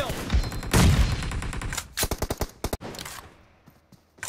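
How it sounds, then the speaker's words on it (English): Automatic gunfire in BGMI (PUBG Mobile) team deathmatch: a loud burst, then a rapid string of sharp shots that trails off into quiet. "learn peek and fire in TDM"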